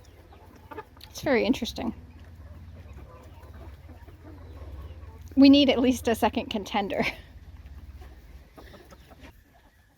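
Chickens cluck in two short bursts, close by, with quiet stretches between them and a low background hum, while a person talks over them.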